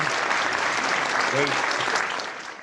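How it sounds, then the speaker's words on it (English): Audience applause fills a Clubhouse-style event, a dense steady wash of clapping that holds throughout and tapers slightly at the end, with a brief voice murmur in the middle. "I think your applause is a little bit louder than mine"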